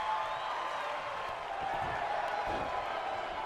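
Crowd noise from a WWE 2K wrestling video game, a steady, dense arena roar of cheering and murmur that holds at an even level throughout with no clear talk over it.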